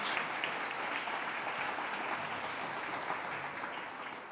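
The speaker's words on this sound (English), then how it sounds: "How about a round of applause for the Council of Neighborhood Associations?" A crowd at a neighborhood awards ceremony applauds continuously, a dense even wash of clapping from many hands, steady in loudness from start to finish.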